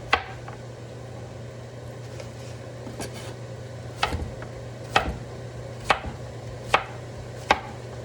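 Zucchini is chopped with a knife on a board, a sparse series of sharp, close chops landing about once a second over a low steady hum, with no talk.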